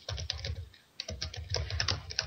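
Fast typing on a computer keyboard, a close, rapid clatter of keystrokes with a brief pause before the flurry resumes, with no speech over it.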